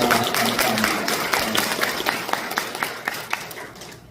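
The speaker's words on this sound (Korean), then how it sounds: "지난 40년 동안 함께 하신 하나님의 은혜에 감사하는 그런 영광의 박수를 모두 하나님께 올려드리도록 하겠습니다" A church congregation at a 40th-anniversary Sunday morning service in Daejeon applauds in a dense, even roar that gradually thins into scattered individual claps.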